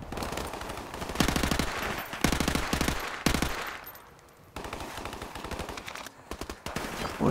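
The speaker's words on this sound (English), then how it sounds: "Boy, this gun's got a lot of bullets." Heavy automatic gunfire from the Call of Duty Remastered campaign mission Hunted, with sustained loud bursts broken by brief pauses, then resuming rapid fire, with no voices.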